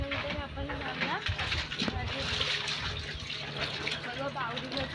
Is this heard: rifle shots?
no